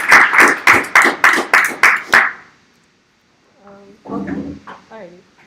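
About eight sharp, evenly spaced claps at an undergraduate research conference, loud and close, then a short silence before a voice starts speaking.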